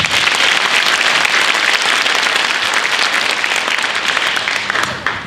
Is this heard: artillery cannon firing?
no